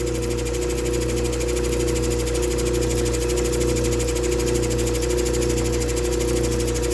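A Diamond Pacific Genie trim saw cutting rhyolite stone drones steadily and loudly throughout, with a constant grinding whine and no pauses.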